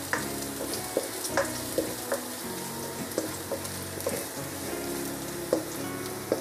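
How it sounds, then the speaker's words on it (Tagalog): Six cloves of minced garlic fry in a tablespoon of cooking oil, a steady soft sizzle broken by regular clinks and scrapes of a utensil stirring in the pan. "1 tablespoon na mantika. 6 na butil minced garlic. Haluluin lang natin."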